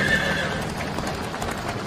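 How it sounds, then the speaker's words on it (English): A frightened horse pulling a caravan along a road neighs shrilly over the clatter of its hooves, close and loud. "The horse is frightened"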